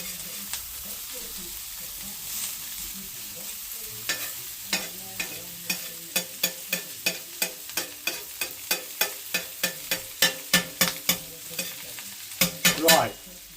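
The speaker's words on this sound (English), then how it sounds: "This is absolutely wonderful for cooking bacon." Bacon frying in a pan for smash burgers, a steady low sizzle under a series of sharp, evenly spaced scraping or tapping strokes that speed up toward the end, close and moderately loud.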